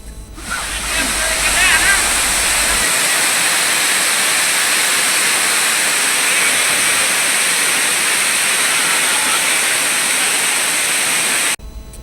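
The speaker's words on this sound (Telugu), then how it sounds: "ఎగసిపడే జలపాతాలు ఆ అటవీ సోయగాలకు మరింత శోభను తీసుకొస్తున్నాయి" Waterfall in the Nallamala forest near Kurnool during the rainy season, a loud, dense, unbroken roar of falling water close by that fills the whole scene.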